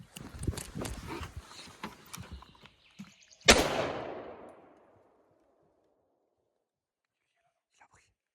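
A single loud rifle shot at a fallow deer on a hunting estate, ringing out and fading over about a second, after quiet whispered talk and movement, then near silence.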